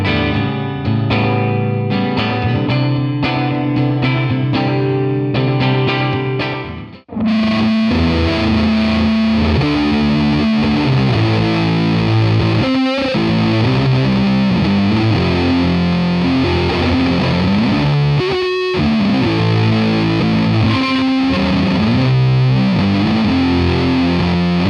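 Fender American Professional Classic Jazzmaster electric guitar run through a big pedalboard, playing loud, heavily distorted chords with chorus-like shimmer; a brief sparse passage gives way at about seven seconds to a dense, sustained wall of driven strumming with two short breaks.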